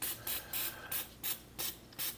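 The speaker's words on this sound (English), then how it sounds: "just take this butter spray" Butter spray from an aerosol can misting onto a Reuben pocket sandwich in seven short, evenly spaced hissing bursts, close and fairly quiet, with no talking.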